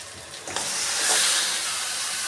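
Marinated mutton dropped into a pan of fried onions bursts into a loud hiss that swells and holds as a steady, close sizzle.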